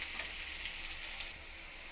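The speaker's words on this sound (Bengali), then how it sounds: "আলুটা হালকা একটু ভালো মতন ভেজে নেব।" Potato pieces fry in a pan of hot oil, giving a soft, steady sizzle that stays even and fairly quiet throughout.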